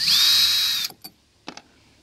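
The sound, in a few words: power drill removing screws from kayak rudder gudgeon plate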